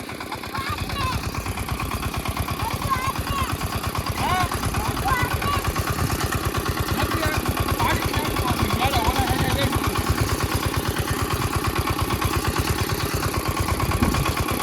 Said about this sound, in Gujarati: તો આવું હાલે આપણું ટ્રેક્ટર